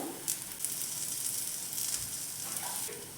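A cutlet made without flour, onion or garlic sizzles steadily in a pan, a continuous close frying hiss with small crackling pops and no talking.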